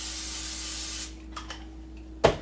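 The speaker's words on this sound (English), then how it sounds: "I am going to add some cooking spray to the frying pan" Cooking spray hisses onto a frying pan in one steady, close burst of about a second, then stops, followed by faint clicks and a brief knock.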